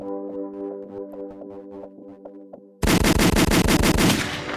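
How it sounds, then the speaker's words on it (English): Loud bursts of rapid automatic gunfire follow a quieter stretch of metallic clicking and rattling, the shots coming in a fast, even rhythm. "Been a while since I gave y'all the gunshots."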